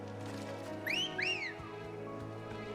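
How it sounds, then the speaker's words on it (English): A character in the video game Final Fantasy XVI whistles two short rising-and-falling notes in quick succession, clear and bright over a soft steady background hum. "why did he do that whistle?"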